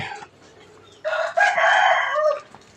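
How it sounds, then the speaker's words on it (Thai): Chickens and a rooster at a temple yard in the morning, waiting to be fed: a brief faint call, then a loud close crowing burst with clucking, and a little quiet speech. "กอไก่ก็รอกินข้าวไก่"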